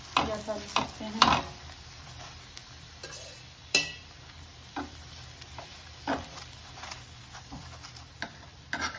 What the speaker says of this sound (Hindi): आप इसे रिफाइंड या घी किसी भी चीज़ से सेक सकते हैं या तल सकते हैं